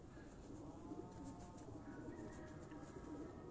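Soft, low cooing from a golden pigeon on a rooftop, repeated gently in the background with faint steady ambient noise.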